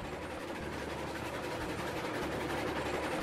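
A driverless train rolls along in the Railroads video game, a steady low rumble of wheels and engine with faint rhythmic clatter, continuous and moderately loud with no talking.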